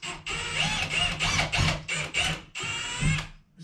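A power drill bores through a timber stud wall toward the plasterboard behind, running in loud whining bursts separated by short pauses, close and with no talking.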